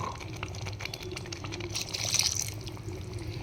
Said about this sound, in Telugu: చెనాతో పాటు మిగిలిన వాటర్ కూడా వేసేస్తున్నాను